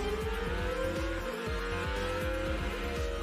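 A high-revving race car engine in the PS1 video game Gran Turismo 2 whines steadily, its pitch climbing slightly, with rapid repeating gear-like pulses underneath.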